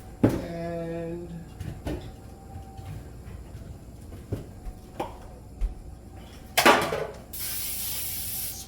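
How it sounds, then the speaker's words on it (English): A short broad hiss of cooking spray hits a baking pan for an angel pound cake with chocolate chips, a brief burst near the end after scattered kitchen clatter and a few tonal knocks. "spread a little spray on that"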